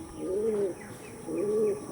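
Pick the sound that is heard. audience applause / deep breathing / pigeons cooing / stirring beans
pigeons cooing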